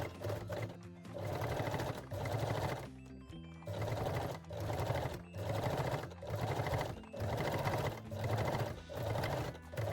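A sewing machine stitches and locks a seam on a cosmetic pouch, running in steady, regular bursts with brief pauses between them, loud and close with no talk.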